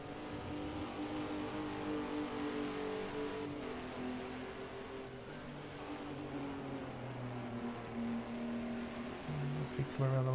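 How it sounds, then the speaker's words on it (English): A Ginetta GT4 race car in the Project Cars 2 racing game drones through a lap, its engine note rising and falling as it accelerates and shifts, loud and continuous with no talk over it. "The engine notes seem to be a lot lower than what I've been hearing with some of the other cars."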